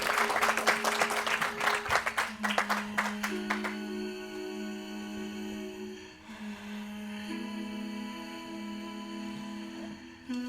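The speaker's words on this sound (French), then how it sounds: "n'hésitez pas à applaudir chaleureusement toute l'équipe de Lucie Fournaise" Dense audience applause at first, thinning into scattered claps that fade under sustained music tones.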